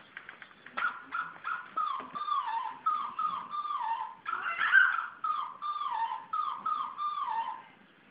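A dog whimpers and whines repeatedly up close, a string of short, pitched cries rising and falling in a steady rhythm.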